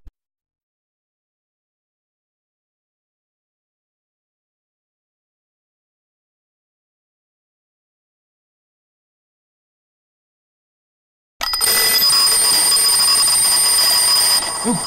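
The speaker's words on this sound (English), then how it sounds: "How do I get that damn alarm clock off?" An alarm clock bursts into loud, continuous ringing after a long stretch of silence and keeps going steadily to the end.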